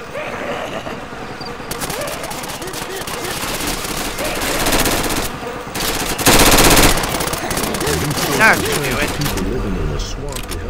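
Rapid automatic gunfire bursts from the Left 4 Dead zombie shooter game, dense and loud, with a player talking over the shooting.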